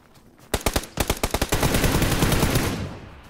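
Gunfire in a battle royale video game: a burst of sharp single shots in quick rhythm, then a sustained rapid automatic volley that fades out, loud and close with no talk.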